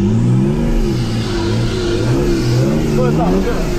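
Off-road race car engine during a Serbian trophy rally, loud and close, droning and rising in pitch as the throttle opens, with crew voices talking over it.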